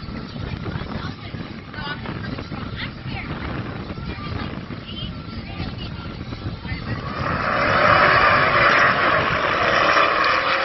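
Ram 1500 pickup trucks launch in a drag race, a loud engine roar that builds and swells sharply in the final seconds over a steady background rumble.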